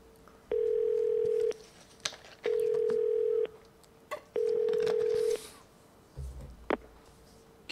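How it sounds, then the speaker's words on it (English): Tones from a Japanese payphone in the video game Yakuza 0 sound as three long, steady electronic beeps separated by pauses, with faint clicks and handling noises between them. "This is a good old Japanese payphone. Better call the family office."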